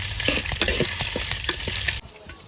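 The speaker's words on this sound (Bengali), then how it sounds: "কড়াইতে তেল দিয়ে দিলাম, চিংড়ি মাছ দিয়ে দিলাম। চিংড়ি মাছগুলো আগে তেল দিয়ে নিই।" Shrimp fried in oil in a wok produce a loud, close sizzle with a few quick stirring scrapes, then the sound drops off sharply near the end.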